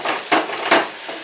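A knife chops chicken breasts on a board in a few dull, close knocks with some scraping between them, and no voices.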